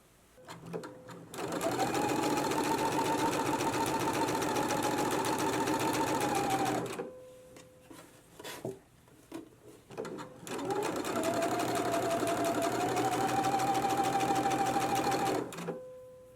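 Sewing machine stitching test rows of shirring on a fabric swatch: two long, steady runs of rapid mechanical whirring and clatter, separated by a pause with brief handling noises.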